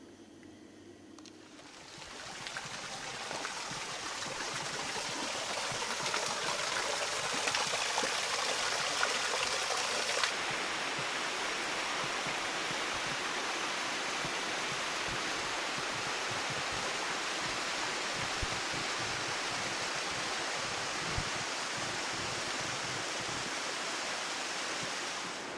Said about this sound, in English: The grounds are really cool with all these waterfalls coming down to the lake.